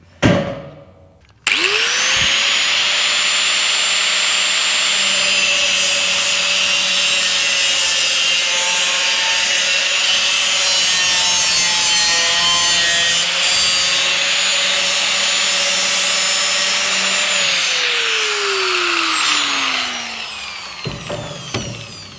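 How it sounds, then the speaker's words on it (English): Power saw cutting metal studs for a workshop tool board, starting abruptly, then a loud steady whine for about fifteen seconds before the pitch drops as it winds down, close up and without speech. "I've just managed to cut each of my metal studs"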